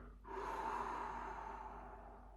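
A single deep breath is let out slowly and steadily in a quiet room during a guided breathing exercise, a soft, long, airy exhale that gradually fades.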